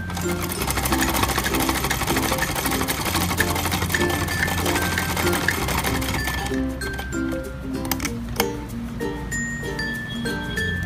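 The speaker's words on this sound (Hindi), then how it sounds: "डबल सिलाई एक साथ लगा दें" A sewing machine runs steadily, stitching a designer kurti with double seams. It hums without a break for about six seconds, then slows into short bursts separated by pauses and small clicks.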